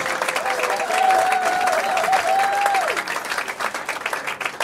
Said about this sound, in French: On applaudit très fort pour les gars.